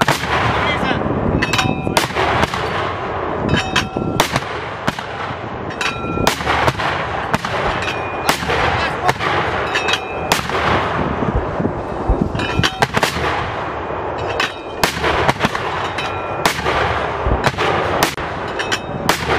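American soldiers fire mortar rounds in rapid succession, producing loud repeated booming launches with sharp metallic clangs at an irregular fast pace, close by, with brief shouted commands in between.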